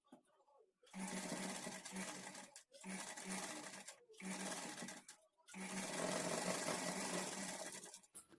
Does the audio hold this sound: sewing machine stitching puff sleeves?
yes